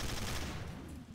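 Gunfire in Garry's Mod Trouble in Terrorist Town while shooting at manhacks, a brief, dense burst of rapid shots that fades slightly toward the end, with no talking.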